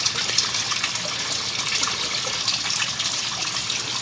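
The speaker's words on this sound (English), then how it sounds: "Let water keep draining out down here a little bit." Steady rushing water drains out of a bucket filter for a pond, a continuous close splashing gush with no pauses and no talk.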